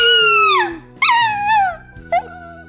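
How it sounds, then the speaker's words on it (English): A puppy howls and yelps loudly up close, a long falling howl followed by a second wavering cry and a short sharp yip, all without any talk. "Big yell puppy."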